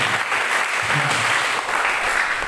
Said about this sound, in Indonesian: Tepuk tangan yang terbaik buat Tuhan Yesus Kristus.